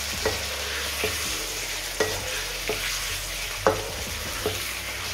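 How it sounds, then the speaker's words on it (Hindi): Chicken pieces fry and sizzle in hot cooking oil for Karachi biryani, a steady hiss broken by about six sharp scraping stirs spaced roughly a second apart, close and clear with no talking. "अब इसमें हम चिकन डाल देंगे। और इसको अच्छे तरीके से मिक्स कर देते हैं।"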